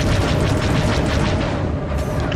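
Missiles burst in space combat in Star Wars: The Old Republic, a dense, continuous roar of booming explosions rolling together, loud and close throughout with no pauses.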